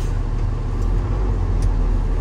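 A semi truck's diesel engine runs steadily up close as the tractor is put in drive for a brake tug test, a continuous low rumble with no voices.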